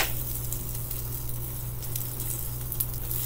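Bacon frying in a pan, a soft steady crackle and sizzle with a low hum beneath, close but fairly quiet and brief.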